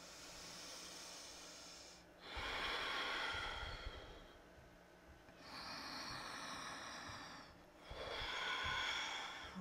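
Slow, deep yoga breaths during a seated twist in a hips and shoulders practice. Three long hissing exhalations run close and steady, separated by quieter pauses, with no talking.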